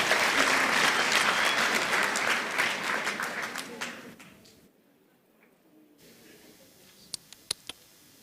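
Audience applause at a university graduation ceremony in Windhoek, a dense, sustained wash of clapping that fades away over about four seconds, leaving near silence with a few scattered sharp claps near the end.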